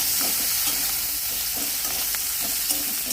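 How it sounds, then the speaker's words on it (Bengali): Steady hiss and crackle of onion and green chili frying in hot oil left from frying fish, with occasional soft stirring scrapes, close and continuous with no talking. "এর তেলে পেঁয়াজ লঙ্কা দিয়ে দেবো"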